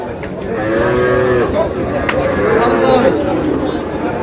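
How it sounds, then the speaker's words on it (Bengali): Young Sahiwal bull calves, about four to five months old, at a livestock market in Faridpur, mooing in drawn-out calls against a steady murmur of background voices. "শাহিওয়ালা ষাঁড়,"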